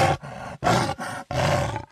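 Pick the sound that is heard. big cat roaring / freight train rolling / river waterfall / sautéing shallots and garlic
big cat roaring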